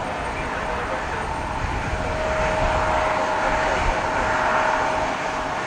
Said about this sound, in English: A pretty neat looking private jet over there.